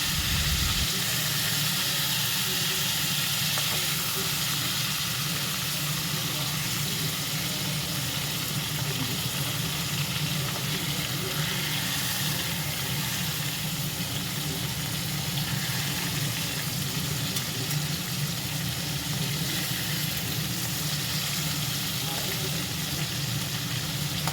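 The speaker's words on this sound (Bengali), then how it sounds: "এইভাবে আস্তে আস্তে ভেজে নিতে হবে" Stuffed pointed gourd with prawns frying slowly in a pan, giving a continuous close hiss and sizzle that stays even for the whole stretch, with only faint voice-like sound beneath it.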